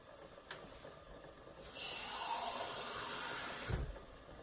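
Water runs and splashes in a soft, hissing stream as it is poured into a pot for Korean seaweed soup. It goes on for a couple of seconds amid faint clatter, with no talking.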